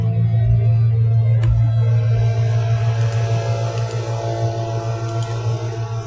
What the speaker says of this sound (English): Someone's doing some sort of yard work outside, it sounds like.